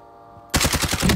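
Automatic gunfire in Warzone breaks out suddenly after half a second of near quiet, then continues as a loud, rapid burst of closely spaced shots.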